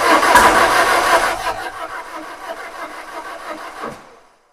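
Peugeot 1007 with a 1.6L 16V engine cranking without catching, a loud rough churning at first that settles into a weaker steady whir before stopping abruptly.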